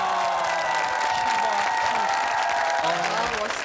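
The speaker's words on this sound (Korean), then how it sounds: "여러분 박수를 보내주시기 바랍니다." Applause from an audience at a Marine Corps Headquarters honor guard drill display, steady crowd clapping with some cheering, sustained throughout under overlapping voices.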